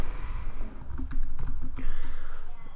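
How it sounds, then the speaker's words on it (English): Code being typed on a computer keyboard, a quick close burst of key clicks and taps over a steady background hum, with no talking. "so I'll just type that up with you guys."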